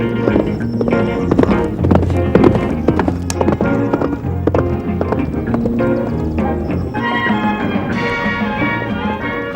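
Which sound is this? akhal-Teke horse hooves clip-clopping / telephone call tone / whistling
akhal-Teke horse hooves clip-clopping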